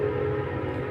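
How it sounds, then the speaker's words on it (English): Passing train sounding a steady whistle or horn tone over a low rumble of rolling wagons, loud and continuous through the short moment with no talking. "Sorry about that train."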